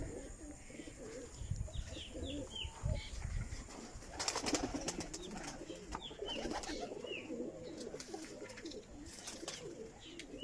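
Soft pigeon cooing repeats at a distance on a rooftop, with faint chirps and light rustling, quiet and open-sounding.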